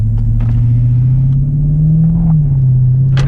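Jeep SRT fitted with an aFe Power exhaust rumbles at idle with a steady, deep, loud drone, rising slightly in pitch midway before settling, heard from inside the vehicle.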